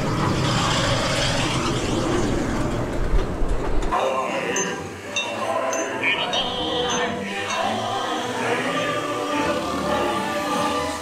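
A Magic Kingdom ride train runs with a loud, continuous rushing roar that shifts to a quieter, clattering rumble partway through, with voices faintly audible underneath.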